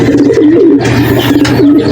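A racing pigeon coos close by in a low, rolling, repeated call, with faint background noise.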